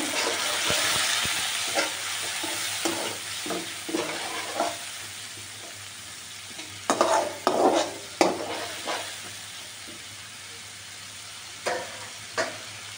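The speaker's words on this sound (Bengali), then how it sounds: "মশলাটাকে অনেক ভালো করে কষিয়ে নেবেন।" Spice paste with added water is stir-fried in a pan for a river fish curry, a steady sizzle broken by repeated scraping and clattering strokes of the spoon, close and fairly quiet, without talk.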